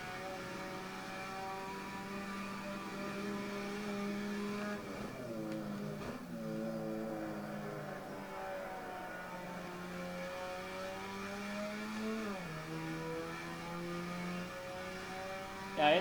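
A steady engine drone from a tuned Mazda RX-7 in Assetto Corsa on PS5 at the Nordschleife holds for a long stretch, its pitch dipping and climbing as gears shift, with no voices over it.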